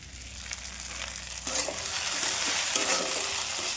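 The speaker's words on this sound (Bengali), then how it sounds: "একটু ভাজা ভাজা হবে পুরো বেগুনগুলো" Eggplant pieces coated in salt and turmeric fry in a pan with a steady sizzle that grows louder partway through, along with stirring scrapes, close and with no talk.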